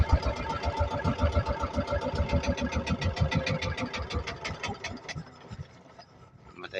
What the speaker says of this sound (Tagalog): Matay na naman yung makina namin.